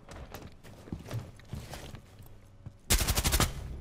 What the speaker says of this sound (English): They're just shooting where I am.